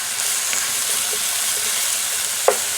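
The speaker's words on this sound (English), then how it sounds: "So it's just the mushrooms cooking" Mushrooms frying in a pan, a steady close sizzle with a constant bright hiss and a few small pops, including one sharper crackle near the end.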